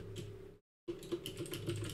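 Fast, steady clatter of typing on a computer keyboard, close and continuous, broken only by a very short silent gap.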